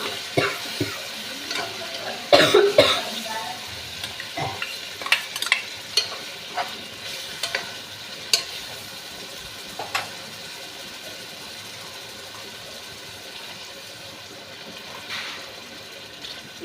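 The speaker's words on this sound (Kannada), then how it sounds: "ನೋಡಿ, ಇವಾಗ ರುಬ್ಬಿಟ್ಟಿರೋಂತಹ ಈ ಮಸಾಲೆ ಹಾಕೋಣ." Ground masala paste goes into a hot pan for chicken biryani and is stirred, giving a soft continuous sizzle with scattered scraping clinks and taps of the spoon against the pan, near and fairly quiet, with no voices.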